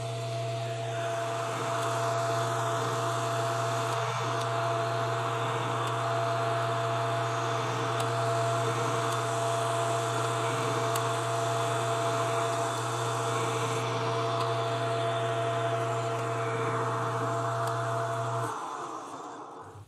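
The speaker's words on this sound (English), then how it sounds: "we'll go over to the lathe and we'll machine that down" A lathe machines a part for an Aermacchi motorcycle shock, running as a steady, loud motor hum with a constant whine for the whole stretch before it winds down at the end.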